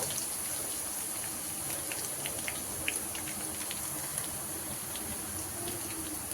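Crushed garlic, dried red chilies and a pinch of asafoetida fry in oil in a pan for a chana rasam, giving a steady close sizzle with light crackles throughout.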